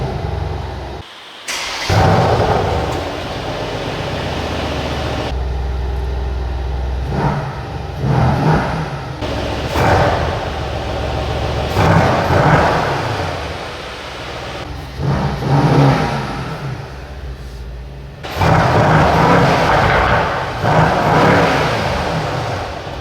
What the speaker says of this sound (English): Now let's start the engine.